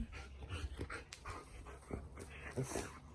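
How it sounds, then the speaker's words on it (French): A dog panting close by with a few soft whimpers and yips, in short breathy bursts during an evening horse-riding session. "Oh, et ce chien"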